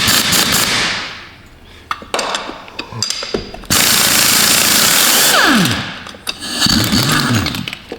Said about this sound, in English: See if we can get some bolts loose in there.